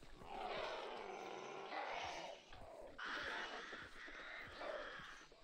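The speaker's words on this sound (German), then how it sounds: "Die Raben, die waren jetzt auch nicht so hilfreich." Crows cawing in the video game Hunt: Showdown, a series of harsh, drawn-out calls, fairly loud and continuous over the clip against a low background hum.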